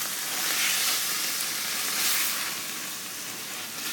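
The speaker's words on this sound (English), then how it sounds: "And there's the pasta boiling. Okay. So I'm going to stir the pasta." Pici pasta boils in a pot while being stirred, a steady bright bubbling hiss that swells and eases slightly, close and fairly loud with no talking.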